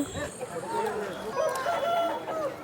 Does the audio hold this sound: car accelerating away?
no